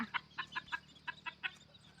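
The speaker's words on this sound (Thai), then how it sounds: "ไก่ที่บ้านเชื่องทุกตัวนะคะนี่" Free-range bantam chicks and hens cluck in a steady series of short, bright calls, eight or so evenly spaced bursts at moderate distance over quiet farmyard background.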